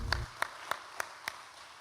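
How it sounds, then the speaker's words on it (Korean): Slow, evenly spaced claps in a church honoring the choir, five distinct close claps about a third of a second apart, fairly faint and with no talk over them. "수고하신 찬양대에 감사의 박수 한번 합니다."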